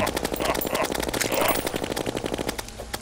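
Rapid bursts of gunfire from a gun in Terraria with the Calamity Mod, a dense, steady stream of loud shots packed with game effects across the whole stretch.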